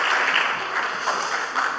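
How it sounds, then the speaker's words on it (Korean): A church congregation at a Sunday service applauds the preacher with a brief, even burst of clapping from many hands, filling the room at a steady level from start to finish. "우리 감사의 박수 한번 보내주시기 바랍니다."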